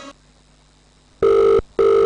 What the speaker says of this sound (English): Olumide, why are you answering the phone?